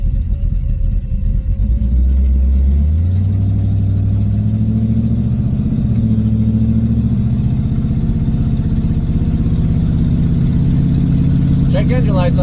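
An LS V8-swapped Chevrolet Monte Carlo idles loud and close, its deep steady rumble dipping briefly then settling into an even, slightly lumpy idle throughout.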